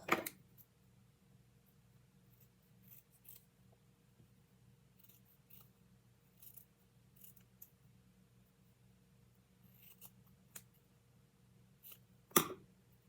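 Scissors cut fabric for a Barbie doll's belt: a sharp snip opens the clip and another comes near the end, with a quiet, steady room hum in between.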